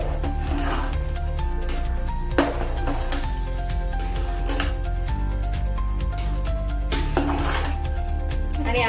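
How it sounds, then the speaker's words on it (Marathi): Pav bhaji with masala is stirred in a pan, giving soft scraping and squishing rubs against the metal over a steady background, with music playing underneath throughout. "हा मी पावभाजी मसाला वरून टाकते आणि ते पण चांगलं हलवून घ्यायचं"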